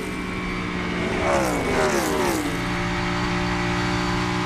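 A race car engine revs hard on a final lap, rising and sweeping past with a strong, buzzing roar over a steady background drone of other engines.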